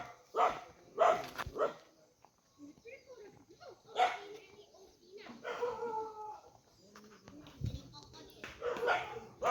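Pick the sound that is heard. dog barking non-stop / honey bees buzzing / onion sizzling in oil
dog barking non-stop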